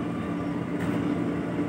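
A KRL Commuter Line electric train rumbles at Bekasi station near the new line 7 track, a dense, steady, moderately loud roar with no voices.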